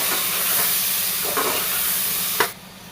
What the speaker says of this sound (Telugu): కట్ చేసి పెట్టుకున్న కొత్తిమీర, అలాగే మష్రూమ్స్, పన్నీర్ ముక్కలు మొత్తం వేసేసుకొని ఒక 2-3 మినిట్స్ వరకు బాగా ఫ్రై